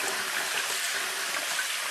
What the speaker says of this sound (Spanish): vamos a lavar bien el arroz